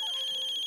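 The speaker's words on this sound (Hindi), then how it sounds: "बाबा का फोन है।" Phone ringtone chirping in a steady, rapid pulsing pattern at moderate volume in an indoor drama scene, heard alone without speech.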